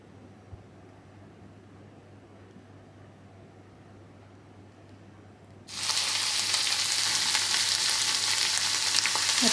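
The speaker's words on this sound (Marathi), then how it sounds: "हे मिश्रण पॅनवर घाला" Tomato omelette egg mixture hitting a nonstick pan over medium heat with no oil, a quiet background giving way to a sudden loud, steady sizzle that fills the rest of the clip.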